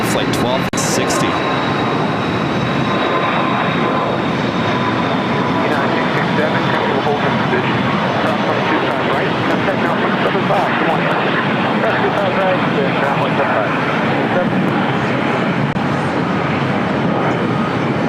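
An airliner at LAX sends a loud, continuous engine roar that stays close and constant throughout, with voices faintly under the din.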